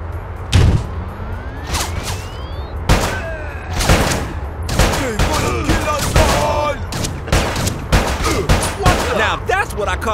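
A gunfight in the video game Bad Boys: Miami Takedown, with loud, close gunshots cracking in quick irregular bursts and single shots over about ten seconds. An occasional voice sits beneath the shooting.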